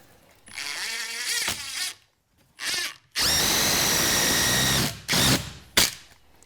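A cordless power drill drives 3-inch construction screws into wall studs for a garage workbench, with several loud, close bursts of whirring, one long sustained run, and short pauses between them.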